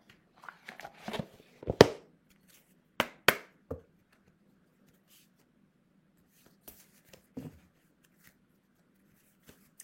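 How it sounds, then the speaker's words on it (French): Large oracle cards shuffled by hand: a cluster of soft papery riffles and slaps in the first seconds, two sharp snaps near the middle, then scattered faint flicks and taps over near silence. "Je vais prendre une carte de cet oracle."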